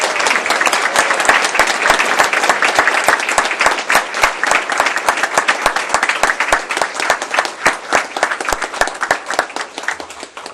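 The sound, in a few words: audience applause for a high school chorus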